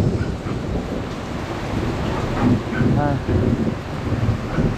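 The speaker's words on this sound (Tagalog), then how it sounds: "Sinamahan na ng kulog. Sinamahan pa ng malakas na ulan." Heavy rain pours steadily while low thunder rumbles through, loud and close, with gusts of wind and a voice briefly heard.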